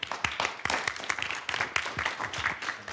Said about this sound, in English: So if everyone could please give a warm round of applause for Jason for today's Food for Thought